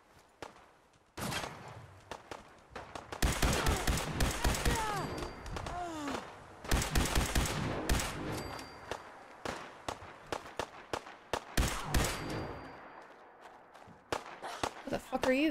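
Gunfire from the Fallout 4 game erupts in dense rapid bursts of sharp, loud shots, interspersed with single cracks and brief pauses, with voices talking over the firefight.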